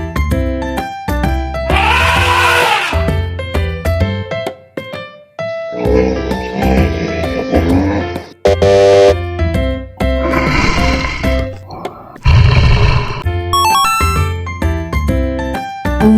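An elephant sounds several times, including loud trumpeting blasts, layered over upbeat children's game music that plays throughout.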